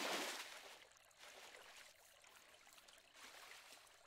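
River water in the survival game Dinkum as a character swims across, rhythmic splashing surges roughly every second over a quiet trickling wash, fairly soft and with no talking.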